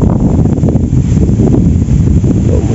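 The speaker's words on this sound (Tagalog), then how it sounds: "Sigurado umuugong to sa kamerang hangin na yan." Loud, continuous low rumbling buffet of wind blasting straight into a camera microphone at a carp fishing spot in Jaen, Nueva Ecija, steady throughout with no talking.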